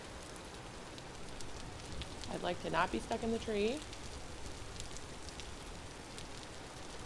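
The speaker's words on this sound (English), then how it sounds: "It's now getting rainy." Steady rain falls as a fine, even hiss through the whole stretch of a Vintage Story game set in woods, with a voice speaking briefly in the middle.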